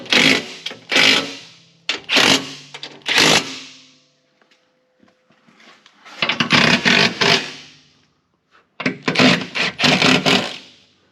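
A power tool drives and tightens bolts on an off-road skid plate under a vehicle, three close bursts of sharp rattling whirs separated by quiet pauses, with no talking.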